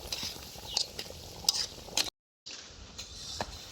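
Desi duck meat curry is stirred and sautéed in a pan, with a scraping spoon and a soft sizzle running throughout and a brief silent gap partway through.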